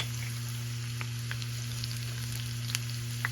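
Ghee tadka with finely chopped green chili and two whole dried red chilies sizzles in a small pan for kadhi, a steady close frying hiss with a few light pops and crackles, no voices.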